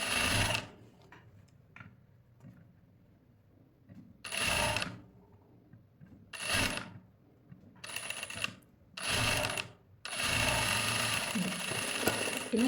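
A sewing machine stitches blouse fabric in several separate bursts of rapid mechanical whirring, each lasting about a second or two, with quiet pauses between them and a longer continuous run at the end, close and clear.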